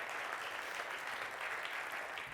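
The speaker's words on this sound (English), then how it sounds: "I want to give that applause" Steady audience applause, a dense even wash of clapping hands that continues at a moderate, somewhat distant level without a break.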